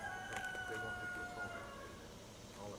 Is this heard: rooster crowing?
yes